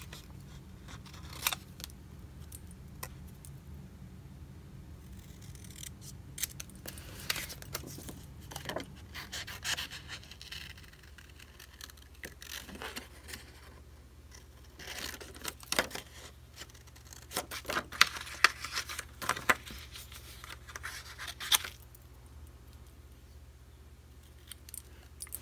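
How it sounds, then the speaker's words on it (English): Scissors fussy cut printed paper images for a birthday treat bag, giving soft irregular snips and paper rustles at close range, scattered through a quiet stretch. "So I'm fussy cutting these images out."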